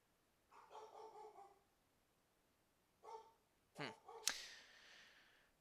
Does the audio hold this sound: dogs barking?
yes